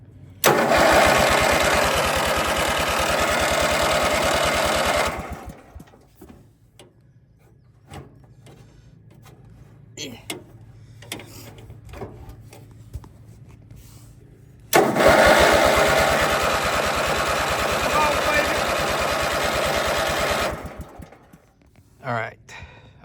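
Vintage rat rod riding lawn mower engine cranking and catching twice, loud close running bursts of several seconds separated by a quieter stretch with clicks and fiddling, then a short final rev.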